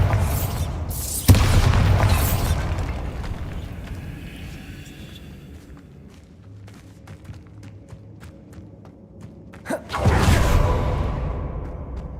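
The Bombarda blasting spell from Hogwarts Legacy goes off in deep, booming explosions: two heavy blasts near the start, then a quieter stretch of ambience with faint thuds, and another forceful boom with a rushing tail near the end.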